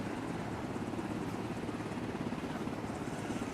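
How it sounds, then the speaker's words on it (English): Steady rotor thump and engine drone of a helicopter flying overhead in a tactical military video game, continuous and fairly loud with no voices. "the helicopter is going to provide fire support."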